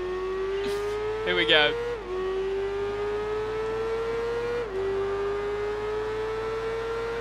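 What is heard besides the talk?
motorcycle engine in Tourist Trophy video game race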